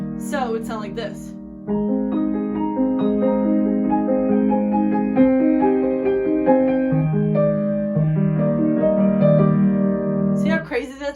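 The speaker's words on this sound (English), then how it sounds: "Arpeggios is a common trick that piano players do, because it makes stuff sound like so advanced" Solo piano plays a melody from a song with rolling arpeggiated chords, a steady flow of layered notes about ten seconds long. It is close and clear, with a short burst of speech-like sound at the very start and the very end.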